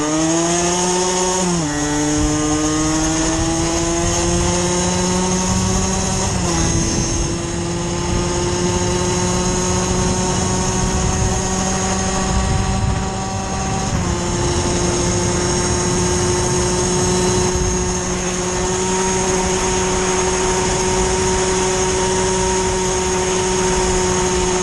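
A 50cc moped's two-stroke engine revs hard and continuously, a loud, buzzing whine held high, dipping briefly and climbing again as the throttle is pushed, with no talk over it.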